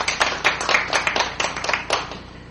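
Audience at a Korean newspaper's third-anniversary religion forum claps steadily, a moderate, fairly close patter of many hands with irregular sharper claps standing out, no talking.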